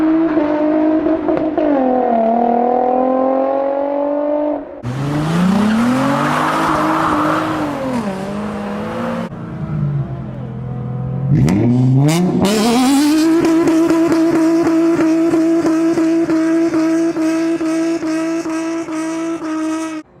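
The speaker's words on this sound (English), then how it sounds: "stock exhaust could use a muffler delete. Sure, it'll cost some drone, but man, does it sound amazing." A Nissan 350Z/370Z with a muffler-delete exhaust revs hard and loud, climbing and falling through repeated throttle blips with raspy pulses, one sharp burst and tire squeal in the middle, then a sustained high rev.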